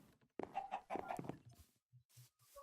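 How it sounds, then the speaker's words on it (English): Chickens in the block-building game Minecraft cluck in short, quiet bursts near a plains area, a few irregular clucks followed by softer ones with pauses between. "I don't know where these sand chickens came from"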